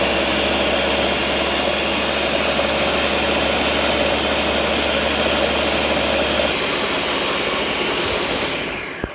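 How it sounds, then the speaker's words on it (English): A Ninja Pro blender runs its smoothie program on hummus ingredients, a loud, steady motor roar with a low hum that shifts in tone near the end as the cycle changes, then cuts off. "Now I'm gonna go ahead and press that smoothie button. And there we go, we're off."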